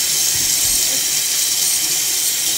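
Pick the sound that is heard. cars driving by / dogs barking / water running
water running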